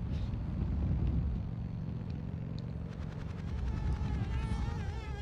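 Bees buzzing in the video game Conker's Bad Fur Day, a steady droning hum with a wavering whine that rises and wobbles toward the end, heard alone without talk.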